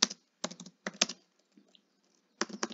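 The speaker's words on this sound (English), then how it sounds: "you will type in" Bursts of typing on a computer keyboard as a search is entered, quick clustered keystrokes in four short runs separated by brief pauses, close and clear with no talking.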